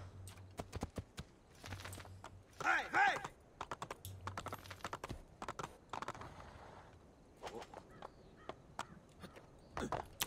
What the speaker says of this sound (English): And back on the horses.